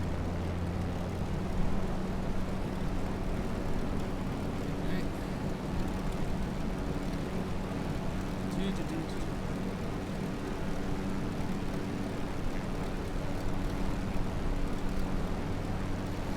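A simulated airplane engine drones steadily at moderate volume in a flight simulator game over the Provence region of France, holding an even tone throughout.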